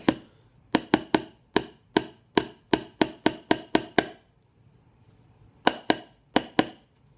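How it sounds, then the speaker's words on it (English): Sharp hammer blows striking nails into a wooden board for string art, a quick series of evenly spaced knocks, a short pause, then a few more strikes. "So I finished hammering in all of my nails."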